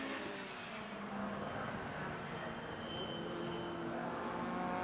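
Lotus Cup race cars roar past on the Rockingham circuit, a dense, continuous engine wail that swells slightly as the field flashes by at speed.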